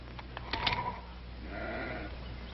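Sheep belonging to a sheepherder bleat in a short burst out on a ranch, the cries moderately close over a low steady background rumble.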